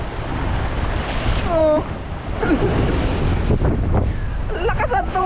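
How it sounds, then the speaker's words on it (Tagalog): Strong waves and rushing water surge continuously at close range, blended with heavy wind buffeting on the microphone, while a person briefly exclaims and faint voices come through. "Ang lakas ang tubig. Ang lakas ang alon."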